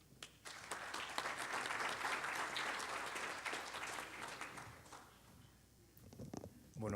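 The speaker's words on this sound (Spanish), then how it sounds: "Por favor, recíbanle con un aplauso." An audience at an energy-efficiency-in-transport conference in a hall breaks into sustained, dense applause that fades out near the end, and a voice follows briefly.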